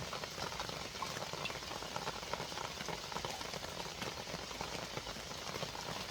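Steady rain, heard as a dense, even hiss and patter that holds at moderate volume throughout, with no pauses or other sounds.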